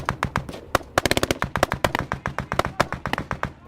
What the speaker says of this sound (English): Estonian forces on the ridge by the police checkpoint are able to give us covering fire as we move back towards their position.